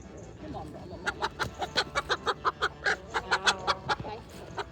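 Brahma chickens and roosters cluck in a quick run of sharp, close calls, about a dozen in a row, over a low murmur of background noise.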